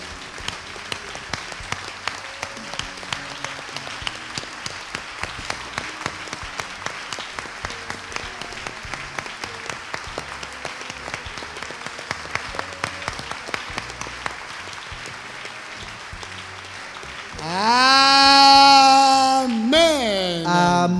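A church congregation at a Bible study and prayer meeting breaks into loud applause and cheering for the Lord. Steady rhythmic clapping runs throughout, and it swells into a rising roar of voices and cheers near the end.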